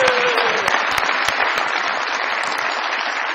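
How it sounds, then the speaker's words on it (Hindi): An audience at a comedy show breaks into loud, sustained applause, a dense wash of clapping that stays strong across the whole stretch with a faint voice at the start. "बहुत सारी तालियां जी"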